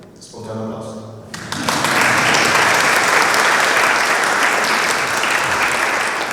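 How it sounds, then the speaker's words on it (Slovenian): An audience at a museum project opening in Radovljica breaks into spontaneous applause. The clapping starts suddenly after a short spoken greeting, swells within a second and then holds as a loud, dense, steady ovation to the end. "Spontan aplavz."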